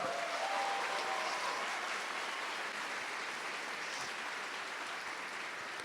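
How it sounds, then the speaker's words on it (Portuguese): Congregation applauding during a Pentecost church service, a steady wash of clapping that holds at an even, moderate level throughout with faint background tones. "Aplaude essa palavra, irmão."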